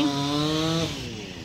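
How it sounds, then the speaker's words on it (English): A chainsaw clearing fallen trees after Hurricane Michael in Tallahassee, Florida, drones with a steady engine pitch that slides downward and fades near the end, moderately distant. "It's chainsaws, jaws of life."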